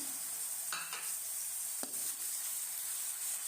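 Raw chicken going into a hot pan for chicken jalfrezi, a steady bright sizzle with a couple of brief stirring scrapes and clinks, close and fairly quiet, with no talking.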